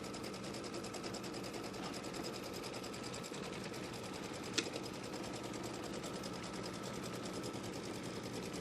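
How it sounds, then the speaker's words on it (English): An embroidery sewing machine stitches quilt fabric with a fast, steady mechanical whirr and needle chatter, running continuously and evenly at close range, with one brief sharp click midway. "It's going to stitch from left to right."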